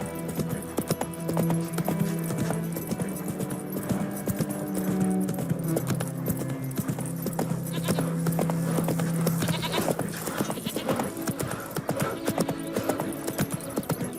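Hoofbeats of Geralt's horse Roach in The Witcher 3 video game: steady rhythmic clip-clop of galloping hooves, close and continuous, with game ambience and tonal music underneath.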